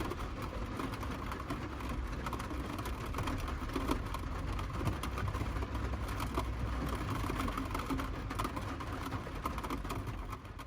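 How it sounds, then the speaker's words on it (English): Steady broadband rain drumming and hissing on a car while driving, mixed with low road and engine rumble, continuous and fairly even throughout, with no talking. "That's rain."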